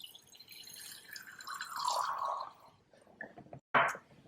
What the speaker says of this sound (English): So in order to rinse with the water, I'm going to put some water into my rinsed beaker here.